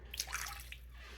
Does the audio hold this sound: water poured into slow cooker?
yes